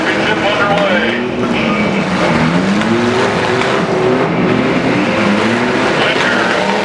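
Demolition derby trucks at an Iowa county fair championship feature roar with engines revving and rising and falling, loud and continuous, under an announcer's voice over the PA.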